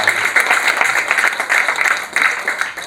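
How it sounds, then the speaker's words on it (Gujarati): A hall audience thanks a speaker after a talk with hearty applause, a close, lively burst of many hands clapping in uneven waves that swell and dip. "દિલથી આપણે તેમનો જોરદાર તાળીઓથી આભાર માનીએ"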